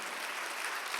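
A church congregation at a Sunday worship service claps in a brief, dense burst of many hands, steady and moderately loud.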